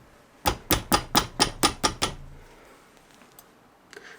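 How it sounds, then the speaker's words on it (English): Eight quick, evenly spaced hammer taps on a metal CV joint boot clamp during a car repair, sharp and close, followed by quiet with a few faint knocks. "And I'll tap it down with the hammer."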